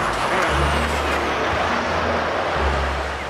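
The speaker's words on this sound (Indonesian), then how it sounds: "Truk towing teman-teman." A tow truck passes on a road, a loud, close, broadband roar of heavy engine and tyres with a brief air-brake hiss, traffic noise throughout and no talk.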